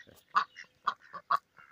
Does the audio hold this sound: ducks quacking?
yes